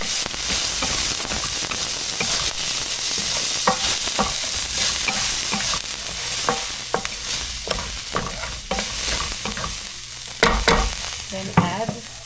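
Onion hits a hot pan and fries with a loud, dense, continuous sizzle, broken by repeated scraping stirs and a few sharper clatters near the end.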